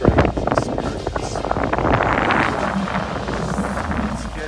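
Gusty outdoor wind buffets the microphone at night in Barrow, Alaska, a loud rushing roar that surges and settles, with brief faint thumps near the start.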